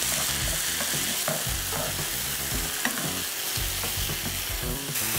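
Ground beef in tomato juice frying in a pan for a tomato-sauce pasta, a steady bright sizzle broken by repeated scraping stirs close by, with no voices.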